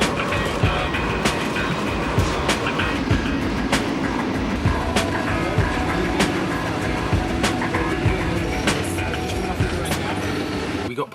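A car-carrying train rolls steadily with rhythmic clickety-clack from the rail joints and a low rumble, recurring clanks throughout, and a voice talking over it.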